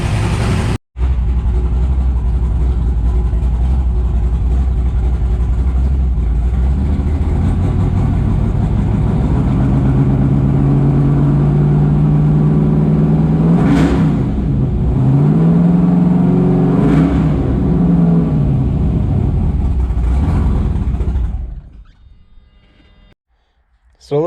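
Pickup truck fitted with an Amazon DIY exhaust kit, the engine idling loudly then revving in two sharp rising bursts before settling and cutting to near silence.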